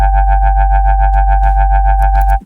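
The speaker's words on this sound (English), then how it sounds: "we're gonna go to the distortion, and we're gonna do that about 5 decibels" A loud, buzzy sustained synth tone with distortion applied in Ableton pulses steadily in a wobbling rhythm, then cuts off abruptly at the end.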